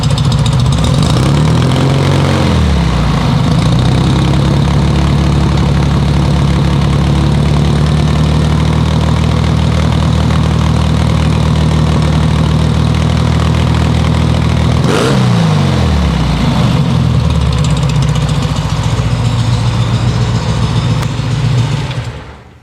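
A 1970 VW Beetle with a 1915cc dual-carb engine and drivability issues idles loud and close, with a quick rev blip near the start and another around the middle before settling back to a steady idle.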